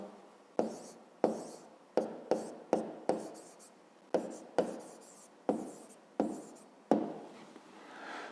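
A pen or pencil writes a math answer by hand on paper, close up, in a series of short scratchy strokes with brief pauses between them.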